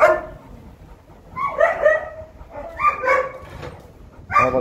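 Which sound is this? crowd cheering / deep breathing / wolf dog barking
wolf dog barking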